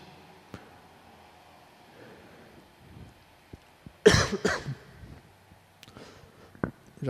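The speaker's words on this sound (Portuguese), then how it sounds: "Já comecei a tossir." A single sharp cough, close and abrupt, breaks an otherwise quiet room with only faint rustles and small knocks around it.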